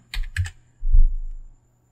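A few quick keystrokes on a computer keyboard, a short cluster of clicks followed by a heavier thump, close and fairly crisp against a quiet background.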